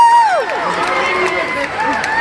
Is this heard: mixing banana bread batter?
no